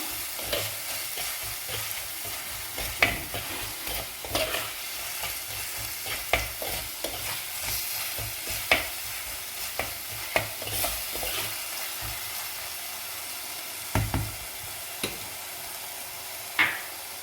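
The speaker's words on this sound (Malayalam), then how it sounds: "ആവശ്യത്തിന് മഞ്ഞൾപ്പൊടി നന്നായിട്ട് വീണ്ടും മിക്സ് ചെയ്യുക" Crab curry masala with turmeric being stirred in a pan, a steady scraping and light sizzle with repeated sharp clacks of the spoon against the pan, no talking.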